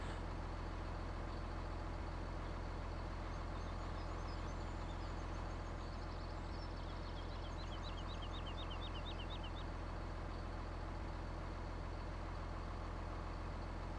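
A farm vehicle's engine runs in Farming Simulator 17, a steady loud low diesel drone and rumble that continues without a break, with faint chirping higher tones drifting through the middle.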